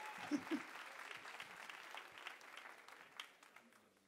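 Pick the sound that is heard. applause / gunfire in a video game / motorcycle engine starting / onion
applause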